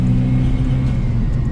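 A car cruising gently at steady, light throttle while a freshly fitted clutch beds in; a continuous low engine drone and road rumble hold at an even level throughout, close and constant with no revving spikes.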